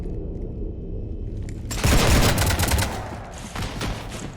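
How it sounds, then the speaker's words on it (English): Gunfire in Mass Effect 3 during a Citadel DLC fight erupts suddenly as a dense, loud burst of rapid shots, then continues in a rolling volley with booming impacts over a low rumble. "You want to stop shooting up my ship?"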